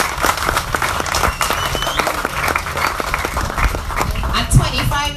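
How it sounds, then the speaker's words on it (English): Applause from a meeting audience for a young 25-year-old candidate in Barataria, a sustained burst of many hands clapping at moderate loudness with some voices mixed in. "I think we should give him a really huge round of applause."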